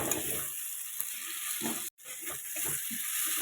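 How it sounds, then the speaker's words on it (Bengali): Prawns frying in a little oil with green chillies and spices, a steady broadband sizzle with soft stirring scrapes throughout and a brief dropout near the middle. "চিংড়িগুলো কাঁচা লঙ্কা সমস্ত মশলার সাথে ভালো করে কষবো আমি পাঁচ মিনিট"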